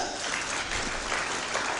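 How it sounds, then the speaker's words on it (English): Steady, dense applause fills a graduation ceremony at a national polytechnic as a large audience claps continuously without pause, loud and close throughout. "Please clap for that."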